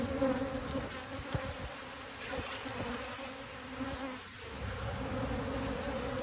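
Dense, continuous buzzing of many honey bees, close and steady, a thick droning hum with no talking.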